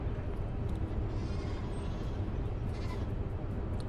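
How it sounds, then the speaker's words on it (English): Sheep bleat over a steady background din, the cries repeating with no voices present. "I hear sheep."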